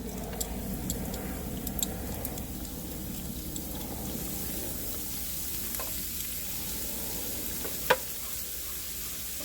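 Minced garlic frying in oil in a pan for a Southern Vietnamese sour soup, a steady soft sizzle with light stirring, close and unbroken, with a sharp tick near the end.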